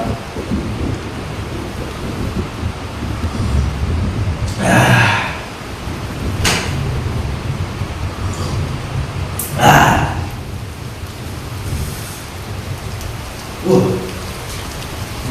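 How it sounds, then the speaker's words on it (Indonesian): Heavy rain pours steadily outside a campsite, a dense constant hiss, with several rumbling thunderclaps rising out of it at intervals. "di luar hujan ya"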